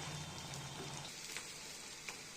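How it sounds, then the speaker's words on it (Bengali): Mustard leaf fritters fry in hot oil, giving a steady close-up sizzle and crackle with a few soft stirring clicks, fairly quiet and without talking. "এগুলো একটু বড়ার মতো লাল লাল করে ভেজে নেব"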